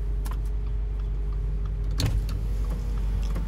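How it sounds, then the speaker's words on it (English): Electric front power windows of a 2020 Subaru Ascent running inside the cabin, a steady low motor whir under idle hum with a brief thump partway through as a window reaches its stop. "and the two front windows are fully automatic."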